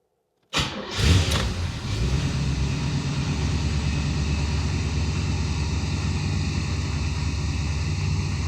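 A Crossfire Corvette engine cranks at the turn of the key and catches, with a sharp burst at the start. It then settles into a loud, steady, rumbling idle close by.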